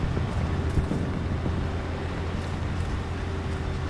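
A Centurion Mark 1 tank engine drones steadily in War Thunder, a loud, even low rumble with rough mechanical texture that holds throughout and has no talking over it.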